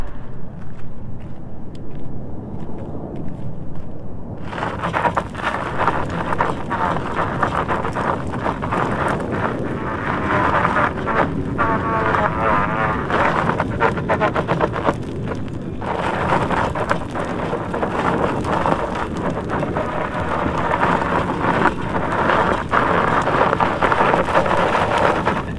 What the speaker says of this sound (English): I'll show you the motors kicking in